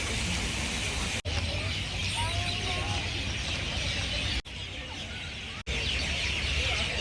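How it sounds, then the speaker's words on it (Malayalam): Birds chirping and singing in a park in Dubai, their high calls rising over a dense, constant wash of outdoor noise, with the sound cutting out in brief drops a few times. "എന്ത് രസമുള്ള കിളികളുടെ സൗണ്ടല്ലേ"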